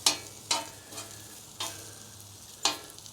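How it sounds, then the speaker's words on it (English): Onions pushed across a hot griddle for a patty melt: a low steady sizzle punctuated by four separate metallic spatula scrapes, close and distinct, with no speech. "let's move these onions over here"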